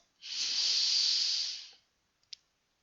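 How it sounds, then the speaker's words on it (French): A single deep inhaled breath during a sophrology relaxation session, close and breathy and lasting over a second, followed by a faint click, with no talk. "vous allez faire une grande respiration à fond"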